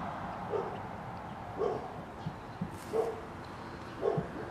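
A dog barks outdoors by a vegetable garden, four or five separate, moderately distant barks spaced about a second apart over a low background hum.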